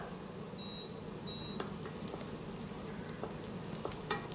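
Onions frying in a pan with cinnamon sticks, cloves and cardamom for mutton mandi, giving a steady close sizzle and crackle with faint stirring and two short beeps from a nearby appliance.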